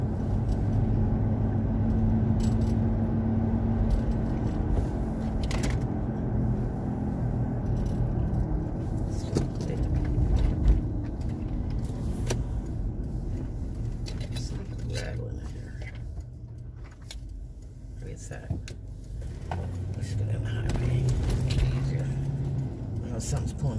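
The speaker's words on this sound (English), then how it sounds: "I don't know what is rattling." An unidentified rattle inside a moving car: a steady low road and engine rumble with intermittent small clicks and knocks over it, continuous for the whole stretch with no talking.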